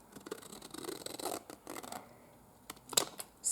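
Scissors snip through paper in a handful of quick, close cuts with soft rustling between them, during a paper crafting session with inked pattern pieces.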